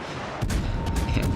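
Naval guns fire in World of Warships during a battle against a Yamamoto, giving a heavy booming salvo followed by a rolling series of further blasts and rumbles, loud and close.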